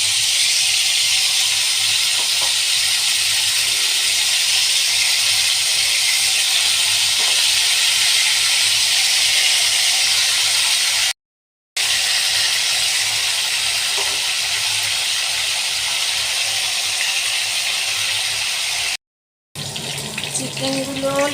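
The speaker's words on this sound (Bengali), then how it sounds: "চিকেনগুলো লাল লাল করে ফ্রাই করে নিয়েছি" Marinated chicken pieces, coated in salt, turmeric, vinegar and ginger, chili and garlic pastes, fry in hot oil with a steady, loud hissing sizzle that runs throughout, broken by two brief cuts.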